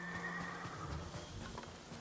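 A Mongol horse in Ghost of Tsushima neighs loudly in a drawn-out whinny, with hoof clip-clops and ambient game sound underneath, no speech.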